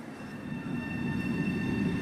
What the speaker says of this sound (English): we're at New York's famous Grand Central Terminal to watch the M3A and M7A electric multiple units going about their business